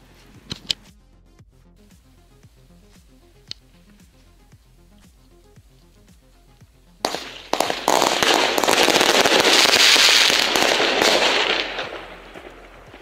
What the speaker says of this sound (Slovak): Všetky rany vystrelili naraz, proste bolo to o ničom.